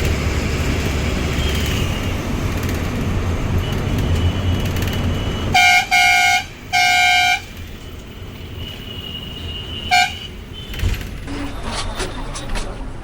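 Car horns honk in a heavily jammed road, with two long steady blasts and a few shorter toots rising over a dense rumble of traffic, engines and street noise.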